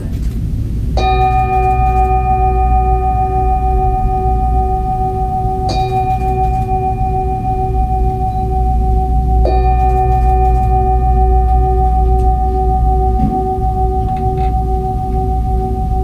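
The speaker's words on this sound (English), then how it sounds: "That's an antique Tibetan singing bowl, of course." An antique Tibetan singing bowl struck about four times at a live calming concert, each strike ringing out with clear sustained harmonic tones that fade slowly over a low steady hum.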